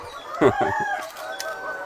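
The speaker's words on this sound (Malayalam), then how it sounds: "ഇതാണ് കോഴി സാമ്രാജ്യം." Chickens of the VV380 breed at a poultry farm cluck and squawk nearby, with a few sharp bursts standing out over a low background of birds.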